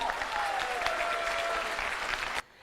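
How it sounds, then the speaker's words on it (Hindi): Applause from an audience at a Hindi motivational talk, a steady dense wash of many hands clapping loud and close for over two seconds, then cutting off abruptly near the end. "इनके लिए भी जोरदार ताली बजना चाहिए"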